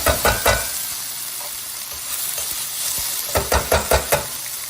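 Tomato cooking in a pan for brown sauce, a steady sizzle up close with bursts of stirring and scraping at the start and end, and no talking.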